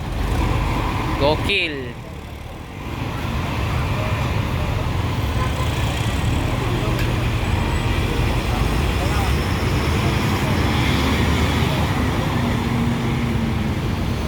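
Tour buses pull out of the Bares bus terminal in Solo amid steady engine rumble and roadway traffic noise, continuous and fairly close, with brief talk near the start.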